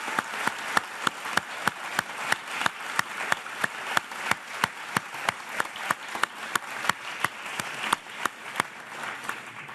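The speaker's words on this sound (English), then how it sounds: "I want to start by giving a round of applause to these candidates." A crowd applauds candidates at a city council candidates forum, sustained and even clapping with crisp individual claps standing out in a steady rhythm throughout, moderately close with no talk.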